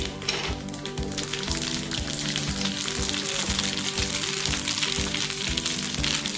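Mustard seeds and urad dal hit two tablespoons of hot oil, producing a steady, dense sizzle with faint popping throughout. The sound is close and loud, and no one speaks.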